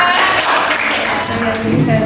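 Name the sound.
classroom applause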